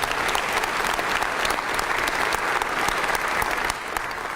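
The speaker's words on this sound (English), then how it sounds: "Let's give them a round of applause." Sustained audience applause at a community State of the Community address in Macon-Bibb, a dense, steady wash of clapping from a large crowd that holds constant for several seconds.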